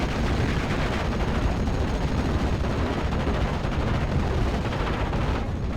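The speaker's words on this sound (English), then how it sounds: "The 50 cal gunner is having a go at another passing BF 109." A .50 cal machine gun in Steel Division Normandy 44 fires at a passing BF 109, a dense, unbroken roar of rapid fire mixed with battle rumble, loud and sustained from start to finish.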